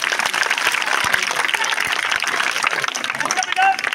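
An audience at a live magic show breaks into loud, continuous applause, with dense clapping and crowd noise throughout and voices mixed in underneath.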